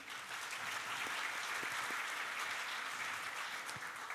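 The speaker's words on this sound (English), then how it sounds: "please welcome them with a warm round of applause" A conference audience at a plenary session applauds warmly to welcome speakers, a steady, even roar of clapping heard from a distance throughout.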